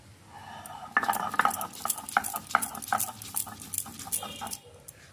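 Peeled king prawns worked by hand into a coarse paste for a Bengali jhinge chingri recipe, making irregular wet scraping, knocking and clattering strokes close up, moderately loud with no talk.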